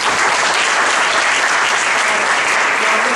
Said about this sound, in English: So very big round of applause.